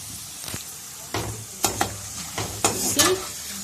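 Homemade potato crisps come out of hot frying oil, with broadband sizzle broken by several sharp scraping and clattering stirs of a utensil through the crisps.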